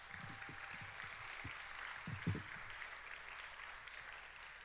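Faint, distant applause from a crowd at an awards ceremony, soft clapping that continues steadily for several seconds with a few louder claps mixed in.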